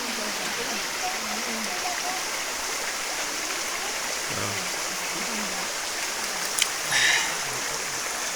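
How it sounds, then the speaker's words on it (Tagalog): River water flows steadily around a person bathing in it, a continuous close rush and hiss with a brief splash near the end, while a voice talks faintly underneath. "Wagusos ng tubig."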